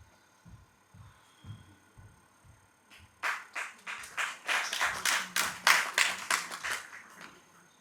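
Audience applause at a Delhi stage performance of the play Seduction, dense clapping that swells in after a few soft low taps and continues steadily, moderately close.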